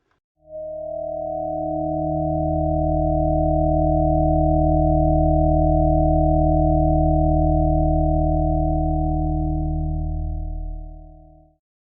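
A synthesized overtone tone, with lower-octave duplications of the 16th partial included, swells in and holds as a steady, pure stack of sustained partials for about ten seconds before fading out.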